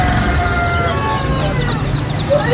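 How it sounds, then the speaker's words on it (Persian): Chickens and roosters at a bustling bird market in Abadan, with steady clucking and cackling from close by over a dense crowd murmur. Voices talk in the background throughout. "اینجا کلا این قسمت همش پرنده فروشیه. مرغ و خروس"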